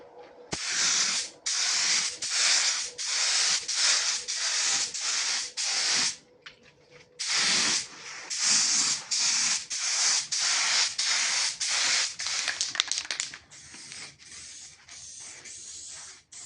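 Spray gun laying epoxy primer onto a new car bumper, a run of sharp hissing bursts in steady rhythm, each lasting about half a second to a second with short gaps, close and clear with no talk.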